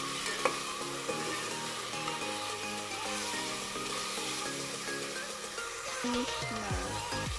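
Garlic and onion sauté in oil for ginataang langka, giving a faint, steady sizzle with a few soft stirring scrapes and no talking.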